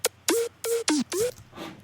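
Sampled synth lead with no effects or processing, built for a remix, playing five short bright notes in a quick run, some with pitch slides, followed by a fainter sixth note.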